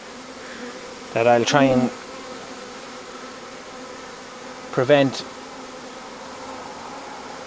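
Honey bees buzz steadily while being moved on a frame into a nuc box during swarm handling, a continuous faint drone broken by two short bursts of someone talking close by.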